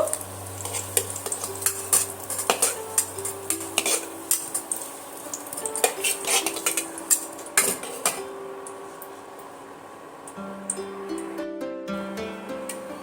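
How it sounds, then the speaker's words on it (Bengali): Fried potatoes for dum aloo are lifted from a pan of hot oil with a metal utensil and set on a plate, making repeated sharp clinks and scrapes over a soft background sizzle. "এবার আমি একটা প্লেটে উঠিয়ে নেব"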